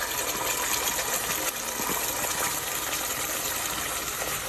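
A paste of onion, tomato and cashew is poured into hot oil for restaurant-style paneer matar masala, giving a steady, close, broad hiss and sizzle that runs unbroken throughout.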